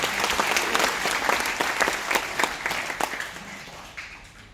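An audience at a morning forum in Seocho breaks into applause, many hands clapping steadily at moderate volume before tapering off toward the end, with no speech.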